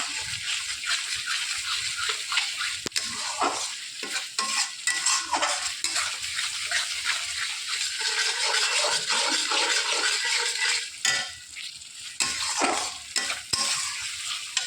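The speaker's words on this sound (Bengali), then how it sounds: "দিয়ে এবারে আর একটুখানি কষে নেব মশলার সঙ্গে দইটা।" Yogurt mixed with spices being stirred in a kadai for a Bengali mutton curry, a steady scraping and soft sizzling with small clinks of the spoon, continuous and close.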